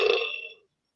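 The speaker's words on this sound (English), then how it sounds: "There's a burp." A single loud, close burp from a person, lasting about half a second and then fading to silence.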